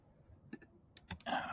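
Typing on a computer keyboard while entering text into a workflow tool: a few sparse, quiet key clicks, then a quick burst of closer taps at the end.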